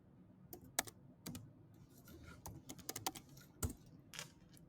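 Typing on a Mac computer keyboard: quiet, close key clicks in irregular bursts and short pauses, with no voices over them.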